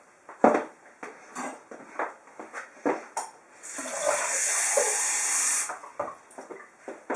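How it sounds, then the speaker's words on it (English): Scattered clinks and splashes lead into a sustained hiss of water pouring into a smoothie maker for a green smoothie, then a few more knocks and clatters. "So in goes the water."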